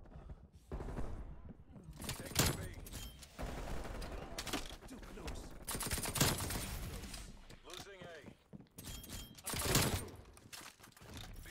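Nail gun firing in Black Ops Cold War, sharp bursts of rapid shots recurring in several clusters across the stretch, loud and close amid other game noise, with a player talking over much of it.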